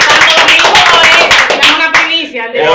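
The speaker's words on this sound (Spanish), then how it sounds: "Vamos, vamos, aplauso," Audience applause during an interview with a public works director, close, uneven clapping from a small group with voices talking and calling out over it before it thins out.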